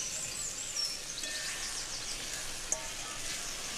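Steady close sizzle and frying hiss of fried potatoes going into a fish curry of small rohu-type fish cooked in hot oil with cumin and mustard, continuous with a brief clink near the end, no talking.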